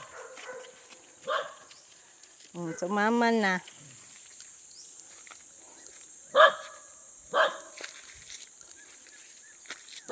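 A few dog barks ring out at intervals, one a drawn-out yelp, over a constant high insect drone, with brief speech nearby.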